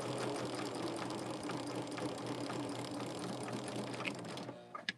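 A sewing machine stitches a quilt block with bobbin thread, a close, busy rattling whir running continuously before stopping abruptly near the end.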